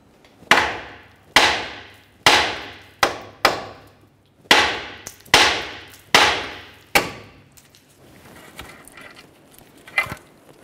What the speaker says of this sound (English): you can go ahead and give it a couple loving bonks with a hammer just to cause some vibration